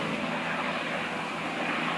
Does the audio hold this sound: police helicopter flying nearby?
yes